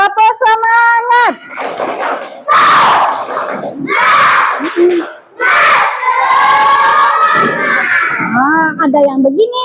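A classroom of schoolchildren shouts a loud rhythmic group chant in unison during a teacher's practical teaching exam, with voices rising and breaking off in bursts over a few pauses.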